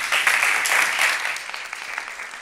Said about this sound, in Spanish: démosle un aplauso al jurado